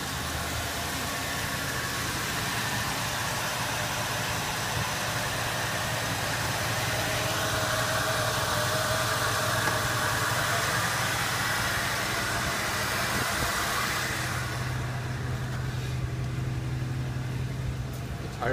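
An Oldsmobile Delta 88 engine runs at high idle on the second step of the fast-idle cam through a welded exhaust, a steady, even rumble that holds without revving, heard close and alone.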